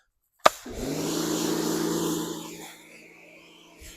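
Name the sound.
power washer cleaning engine parts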